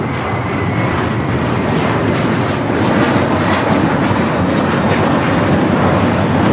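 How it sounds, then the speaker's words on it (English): A JetBlue Airbus A321 taxiing at LAX gives a steady, loud, broadband engine roar that holds close and even throughout, swelling slightly partway through. "We have a JetBlue A321 taxiing in front of us"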